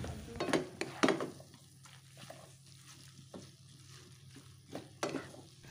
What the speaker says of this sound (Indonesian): terakhir masukkan daun bawang, kemudian diaduk-aduk sebentar aja